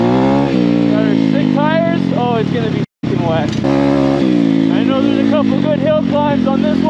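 An Apollo RC pit bike with a swapped-in 150 engine, ridden on wet enduro trails, its motor buzzing steadily and revving up and down throughout, loud and close, with one brief cut in the middle.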